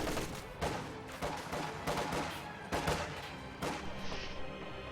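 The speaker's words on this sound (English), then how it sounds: "that heavy mortar is just annihilating everything" Heavy mortar and gunfire in a World War II strategy game match with Soviet forces, a steady barrage of repeated booming impacts and crackling shots at moderate loudness with little talk.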